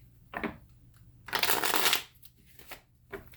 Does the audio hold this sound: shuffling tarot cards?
yes